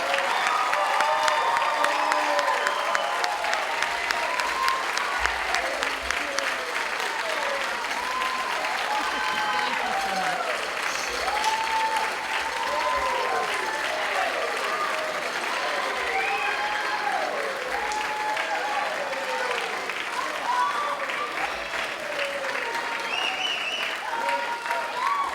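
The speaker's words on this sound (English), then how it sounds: "I think we should give them all a round of applause." Sustained audience applause fills a graduation ceremony for an adult education program, a dense, steady wash of many hands clapping over nearly half a minute with a few cheers mixed in.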